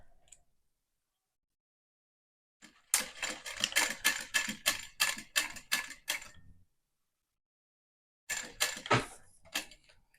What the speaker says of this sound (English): just sew these pieces together